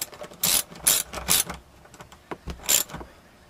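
A ratchet snugging up rear strut bolts on a 2003 Subaru Outback gives a close, loud series of quick clicking bursts, several pulls in an uneven rhythm with metallic clatter between them and no voices.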